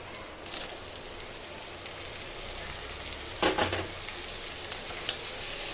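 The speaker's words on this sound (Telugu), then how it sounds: "టమాటాలు కలుపుకొని కొంచెంసేపు కుక్ చేసుకుందామండి." Tomatoes and coriander cooking in a pan for Indian-style spicy masala pasta, giving a steady low sizzle with a brief burst of stirring scrapes midway, no talking.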